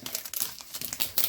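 A zipper is pulled open on LOL Surprise toy packaging with quick, scratchy crinkling bursts. It is close, fairly quiet and brief.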